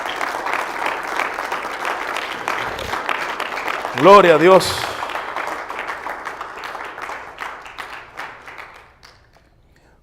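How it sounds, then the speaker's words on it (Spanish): Congregation applauding in a church for Christ, a steady wash of clapping that swells briefly near the middle and fades out toward the end, with a voice speaking over it. "¿Cuánto pueden dar un aplauso a Cristo en esta hora?"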